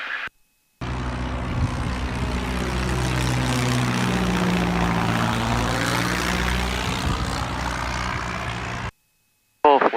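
Small single-engine training airplane on approach at 1700 RPM, heard from inside the cabin as a loud, steady propeller drone with a slowly shifting engine tone, starting and stopping abruptly.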